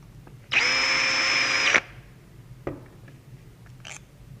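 A power tool whines loudly for about a second while breaking loose a screw on a KLX motorcycle during an EagleMike kit install, followed by a couple of faint metallic clicks.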